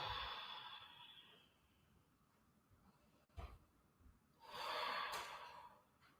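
Slow, audible breath released during a calm yoga practice, a soft airy exhale rising near and fairly loud after a quieter stretch, with an earlier breath fading at the start.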